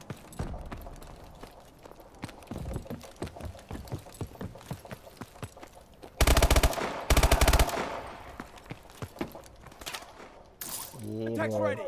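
Gunfire in Call of Duty: Advanced Warfare starts as scattered shots, then breaks into two loud, dense automatic bursts midway, followed by a brief voice near the end.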